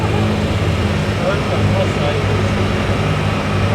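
A 2021 Can-Am ATV engine drones steadily while riding down a road, a continuous loud low rumble with wind noise and no breaks.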